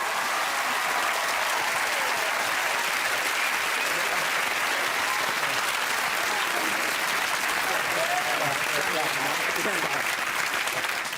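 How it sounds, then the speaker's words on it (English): Studio audience applause on a BBC game show: a sustained, loud, dense burst of clapping from the crowd that holds steady throughout, with some voices and cheering mixed into the wash. "Give him a round of applause."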